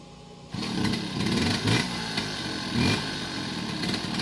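The 50cc engine of a 2003 Suzuki JR50 small motorcycle starts up and revs in second gear in a few uneven surges, fairly close, with a rough buzzing drone between bursts.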